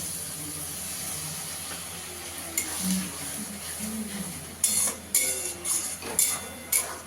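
Masala for a lote (Bombay duck) fish malai curry sizzles softly in a pan as coconut milk made from packet powder is stirred in. A steady frying hiss runs underneath, and sharper utensil scrapes and clinks against the pan come near the end.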